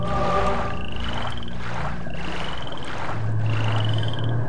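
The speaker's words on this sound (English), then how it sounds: "in this level, the biggest nuisance are the frogs" Frogs croak in a swamp level of the video game Mask of Eternity: repeated rising chirping croaks at regular intervals over a dense, bubbling marsh ambience, with a low droning tone near the end.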